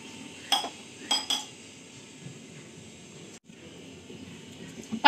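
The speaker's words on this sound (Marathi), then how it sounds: "पाणी उकळण्यासाठी आपण पटकन इथे झाकण ठेवते" A metal lid set onto a pot holding two glasses of water on a lit gas stove: a few sharp, close clinks and clatters of metal on metal over a low steady hiss of the burner.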